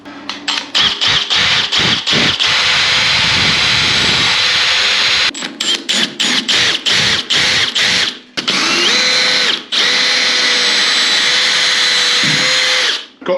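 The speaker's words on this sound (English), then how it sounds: "one of those tile drill bits will do all 6 of these holes" A power drill with a tile drill bit bores holes in bathroom wall tile for a shower screen, loud and close, in repeated bursts with short pauses between and a long steady whine near the end.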